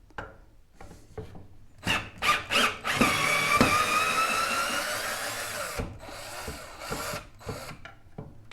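A Black and Decker LDX120 cordless drill runs in reverse to back out a screw from a countertop, whining steadily for about three seconds between short bursts and clicks of handling, close and fairly loud.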